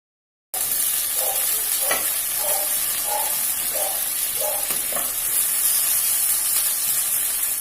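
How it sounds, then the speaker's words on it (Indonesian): Green chilies stir-fried in a pan, a steady bright sizzle with occasional scraping stirs from a spatula, close and continuous after a brief silent start, with no talking. "Setelah itu kita masukin cabai hijaunya. Kita tumis lagi, jangan lupa diaduk-aduk."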